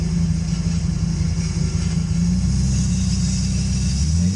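V10 jet boat engine running steadily on a lake, a loud continuous low rumbling drone with no break.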